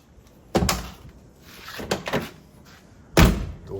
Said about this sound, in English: Door shuts pretty good.